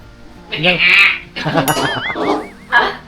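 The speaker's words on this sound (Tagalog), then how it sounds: "Ano yung maingay dun? May kambing po." Loud, quavering goat bleats close by, two or three calls with people talking over and between them.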